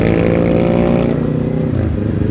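A Kawasaki Ninja 400 fitted with an Akrapovic slip-on exhaust runs loud and close, its engine a steady throaty drone that eases off slightly near the end.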